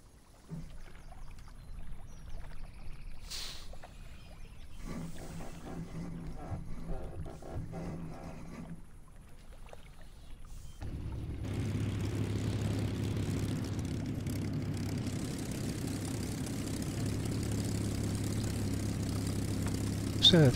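Spitfire Mk 5b aircraft engine starting up and settling into a loud, steady propeller roar after several seconds of quieter cranking and ground noise, with faint voices early on.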